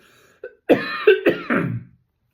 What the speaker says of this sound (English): Forgive me for coughing.